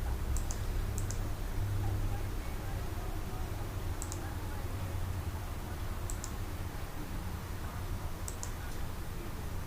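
Key presses on a computer keyboard while working in Photoshop, a few sparse, crisp clicks in pairs spaced several seconds apart over a steady background hum, with no talking.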